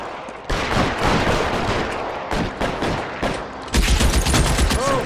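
Rapid gunfire from an L.A. Noire shootout with the LAPD, dense overlapping shots crackling continuously for about five seconds, growing louder and fuller near the end.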